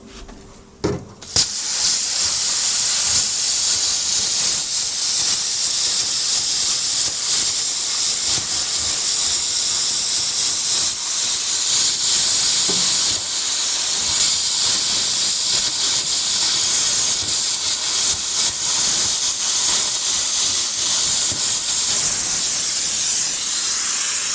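A tool cuts out the floor of a 1970s Chevelle, producing a loud, harsh, continuous hissing roar that starts abruptly after a brief pause and runs unbroken for over twenty seconds.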